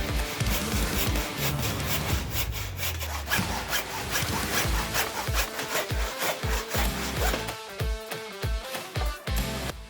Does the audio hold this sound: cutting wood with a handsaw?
yes